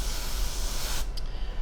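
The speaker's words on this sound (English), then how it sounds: "let's spray this sucker down" A spray can hisses onto a circuit board in one sustained, fairly close burst lasting about a second, then cuts off abruptly into a quiet room.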